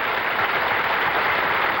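An appreciative crowd at a televised bowling match applauds in a steady, dense wash of clapping, loud and continuous throughout without a break.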